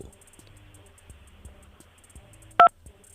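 A single sharp telephone keypad tone cuts in once during an automated phone call, loud and brief against quiet line noise and faint background sounds.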